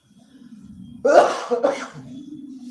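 Two harsh coughs in quick succession, loud and close, over a low steady background hum.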